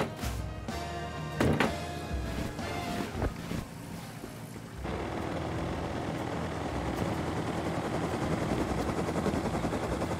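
A minicopter in the Rust video game gives off a steady, dense rotor and engine roar with wind-like rushing, punctuated by a few heavy thumps in the first seconds, then settles into an even drone.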